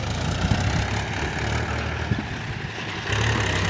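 A tractor and a JCB excavator move and level soil in a field, producing a steady low diesel engine rumble with a few heavier surges and no talking.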